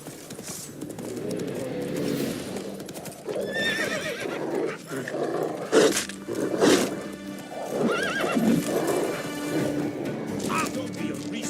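A horse in the video game The Witcher 3 clops along with steady hoofbeats and lets out neighs and whinnies, fairly loud and close, with a voice briefly heard.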